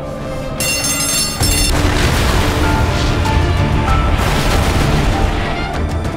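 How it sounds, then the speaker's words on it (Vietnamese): A cargo ship loaded with acid and explosives blows up in a massive blast, a sudden heavy boom followed by a sustained, loud roaring rumble laced with dramatic tonal sounds. "tiếng nổ vang vọng khắp đại dương"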